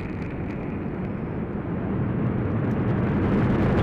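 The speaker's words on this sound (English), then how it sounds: "the United Launch Alliance Delta IV rocket carrying the WGS-9 mission for the United States Air Force" A United Launch Alliance Delta IV Medium rocket climbs at full thrust on the WGS-9 mission with its solid rocket motors burning, a loud, continuous, broadband roar that grows slightly stronger as it goes on.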